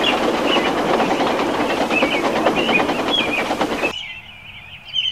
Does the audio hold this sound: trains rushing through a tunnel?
yes